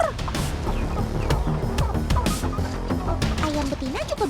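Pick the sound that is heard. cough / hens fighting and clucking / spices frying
hens fighting and clucking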